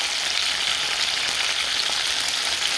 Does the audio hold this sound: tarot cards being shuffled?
no